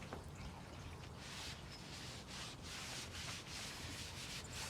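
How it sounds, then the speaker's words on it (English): Continuous soft rubbing and scuffing as sealed outdoor Saltillo tiles are buffed dry, a rhythmic swishing repeated in short strokes, faint and close. "we're buffing them dry as well because like I said, they're already sealed"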